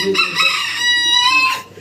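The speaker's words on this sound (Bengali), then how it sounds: "মোরগের ডাকি আমাকে ডিস্টার্ব করে মাঝে মাঝে" A single rooster crows loudly and close by, one long strained cock-a-doodle-doo with no talking over it.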